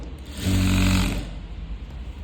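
A sewing machine runs a single short stitching burst on a churidar neck, loud and close, then fades into low background rumble.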